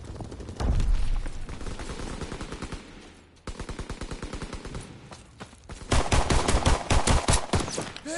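Rapid machine gun bursts and rifle fire rattle through a WW2 video game battle, loud and close, with a brief lull near the middle before heavier, denser volleys erupt toward the end.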